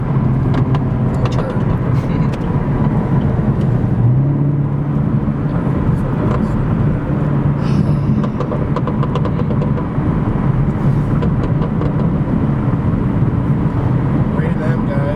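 From inside a 2020 Chevrolet Camaro 2SS on a ride along, the engine and exhaust drone steadily with low rumbling tones, while occupants talk over it.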